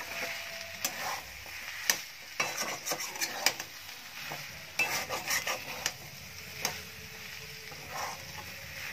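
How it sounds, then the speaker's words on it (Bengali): Vegetables tossed with garam masala and mace powder in a pan, a spatula scraping and clattering in irregular bursts over a soft sizzle, close up with no voices. "এটাকে ভালো করে নাড়বো।"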